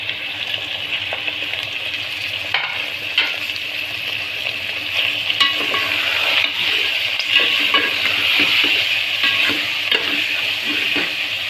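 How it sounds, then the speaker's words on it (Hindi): Minced keema frying with tomatoes and green chillies gives a steady sizzle, with repeated clinks and scrapes of a spoon stirring the pan throughout and the stirring growing busier toward the end; nobody speaks. "हम ये टमाटर और हरी मिर्ची जो है ये इसमें शामिल करके भूनेंगे"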